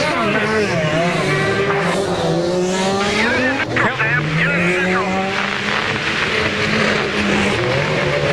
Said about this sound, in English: finally he gets out of the pit